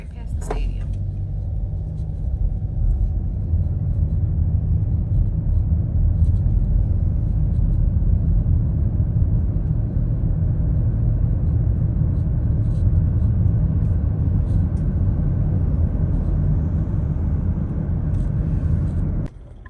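A car drives along a road past a football stadium in Tampa, giving a steady, loud low rumble of engine and tire noise that holds evenly for nearly twenty seconds before dropping off at the very end.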